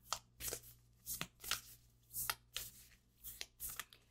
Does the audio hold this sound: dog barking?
no